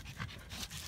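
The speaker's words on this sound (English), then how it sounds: "Cute little dog." A small dog pants in quick, faint, rhythmic breaths close by, with no talking over it.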